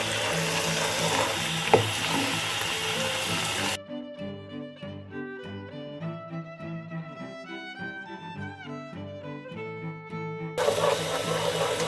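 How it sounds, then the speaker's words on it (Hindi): Chopped onions fry in a pan over a medium flame for chicken karahi, giving a steady, dense sizzle at the start and again at the end, with a long stretch of music in between. "अच्छे से इसको भून लें, प्याज को अच्छे से भून लें आप, थोड़ा सा प्याज गल जाए।"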